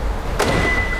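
A Hyundai Ioniq 5's motorized exterior door handle actuator pushing the handle out gives one short mechanical clunk and whir, close and clear over a steady background hum.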